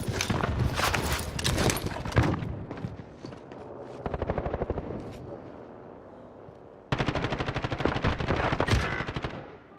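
Gunfire in the video game Warzone, with loud bursts of rapid automatic fire broken by short pauses and then resuming in sharp repeated volleys, close and dominant throughout.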